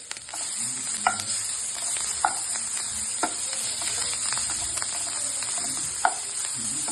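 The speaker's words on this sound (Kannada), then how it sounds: "ಗ್ಯಾಸ್ ಲೋ ಫ್ಲೇಮಲ್ಲಿ ಇಟ್ಟು ಹುರ್ಕೋಬೇಕು ಸಣ್ಣದಾಗಿ" Finely chopped raw mango fries quietly over a low gas flame, with a soft, continuous sizzle broken by occasional light scraping knocks of a stirring spoon.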